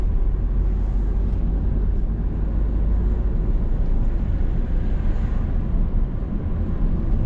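A steady low engine roar heard from inside a car accelerating during a driving lesson, continuous and loud with a broad rumbling hum throughout.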